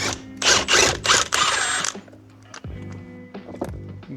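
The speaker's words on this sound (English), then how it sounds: "And then we can take this bolt out here, and this is a 15/16." A 15/16 bolt comes out of a Ford F-150 steering wheel: three loud, close whirring bursts from a power tool, then quieter scattered clicks and taps of tool and metal.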